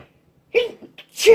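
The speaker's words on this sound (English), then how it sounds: "Oh, I'm going to sneeze, sorry." A single close sneeze, with a short breathy intake before it and a sharp, forceful burst at the end.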